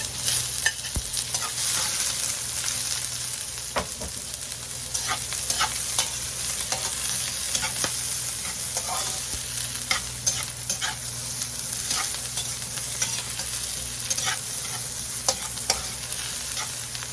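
Garlic and onion sizzle in hot oil in a pan for pancit, a continuous crackling hiss broken by sharp scrapes and clinks of stirring, close and steady throughout.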